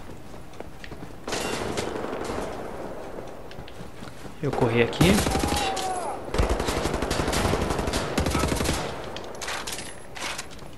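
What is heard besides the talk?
gunfire hitting the player in the video game Wolfenstein: The New Order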